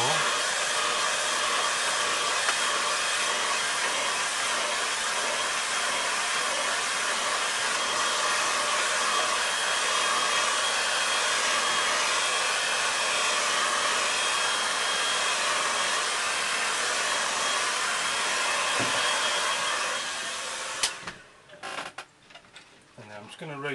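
A hair dryer blows steadily and loudly on a watercolour painting of St Ives harbour, a constant broadband whoosh that runs for about twenty seconds before cutting off, followed by a few soft handling noises.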